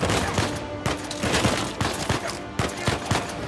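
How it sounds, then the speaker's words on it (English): Rapid gunfire in the video game Uncharted 4, a dense, loud barrage of overlapping shots with sharp repeated bursts continuing throughout the few seconds. "Elena, will you shoot that guy, please?"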